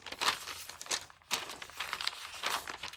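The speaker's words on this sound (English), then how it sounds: "I just went ahead and ripped it because I knew that that was going to be a weak spot" Old wrapping paper ripped and crinkled by hand, several short tearing and rustling bursts, close and fairly quiet with pauses between them.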